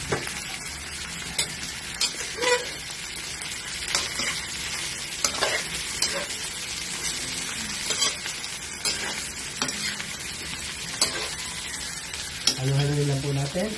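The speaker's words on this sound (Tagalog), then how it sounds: "Lagyan po natin ang mantika na may atsyete," Shrimp frying in oil colored with annatto, stirred in a pan: steady sizzling with repeated scraping stir strokes throughout, close and fairly loud, with a brief tonal clatter near the end.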